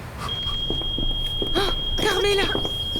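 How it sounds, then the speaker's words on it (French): A fire alarm rings a steady, high-pitched tone without pause through nearly the whole stretch, while people talk and move around underneath. "Carmela, l'alarme incendie s'est déclenchée"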